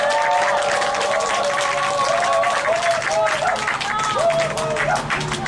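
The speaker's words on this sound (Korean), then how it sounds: "힘찬 박수 부탁드리겠습니다." An audience at a labor union solidarity rally gives loud, vigorous applause welcoming a union branch leader to the stage, with dense clapping mixed with crowd voices and a melodic tone running underneath.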